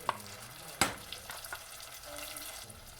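Ground tomato mix for tomato chutney hits a hot pan with curry leaves, giving a soft sizzle and a few sharp spatters and stirring clinks, quiet and close.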